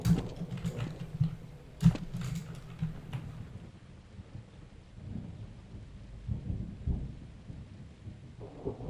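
Thunder rumbles in a Counter-Strike map, a loud crack near the start followed by rolling low booms and steady rain, with no voices.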